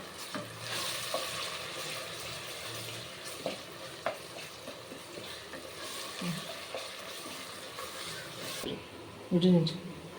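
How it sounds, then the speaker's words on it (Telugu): Ginger-garlic paste and spices fry in oil for a country-chicken kurma, hissing steadily with occasional stirring scrapes and a few soft knocks, while a voice talks over the cooking. "అల్లం వెల్లిపాయ కూడా నూనెలో మంచిగా వేగాలి ఈ మసాలాలతో పాటు"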